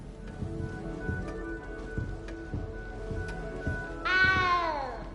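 Frightened little cat meowing in a large castle, a short run of rising and falling meows near the end over steady background patter and scattered knocks.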